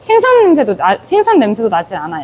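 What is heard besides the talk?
No everyday noise stands out behind the speech.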